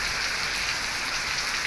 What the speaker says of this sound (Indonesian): Hujan lagi ya, teman-teman ya.